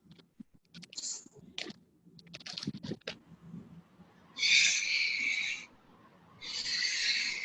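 A person imitates the wind with their voice in a theatre arts class, making two sustained, breathy whooshing blows, each about a second long, close and fairly loud, after some scattered clicks and rustling.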